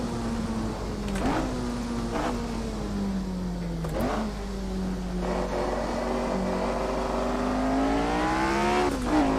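An F1 car in the Assetto Corsa video game on the Nürburgring Nordschleife: a steady high engine whine rises and falls through several quick gear changes, loud and continuous throughout.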